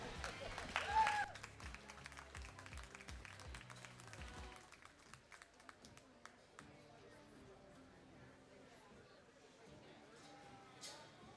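An audience at a youth goat show at a county livestock show gives a short burst of applause in an indoor arena that fades into crowd murmur and chatter, with a voice over the loudspeaker.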